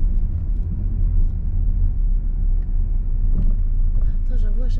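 Steady low engine rumble and road noise from inside a car on a learner-driver lesson, continuous and fairly loud throughout, with passengers talking over it.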